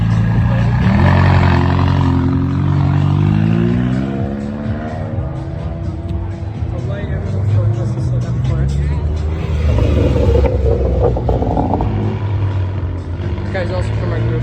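Hypercar pulling away from a Pfaff reserve open house: a loud engine rising through the gears with climbing revs, dipping between shifts, then settling into a sustained roar, with people talking over it.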